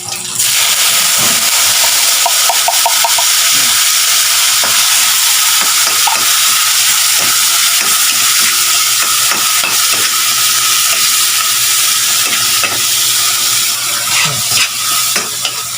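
Garlic and onion sizzle steadily in a pan, a continuous loud frying hiss with scattered pops and occasional stirring scrapes, no talk over it.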